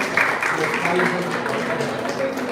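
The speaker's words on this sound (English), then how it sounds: "Please give yourselves a standing ovation." Event audience gives a sustained round of applause, a steady dense clapping texture throughout with voices murmuring underneath.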